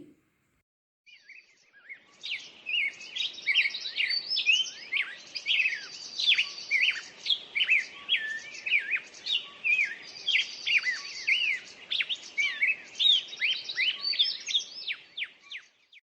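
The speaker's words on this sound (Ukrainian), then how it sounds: "Послухайте, як дзвінко чути голоси птахів навесні." Several birds sing brightly and continuously in spring, overlapping chirps and trills rising and falling in a dense, clear chorus.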